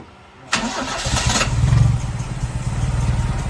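A used car with a 1300 cc engine cranks briefly and fires up, settling into a smooth steady idle close by, with no talk over it.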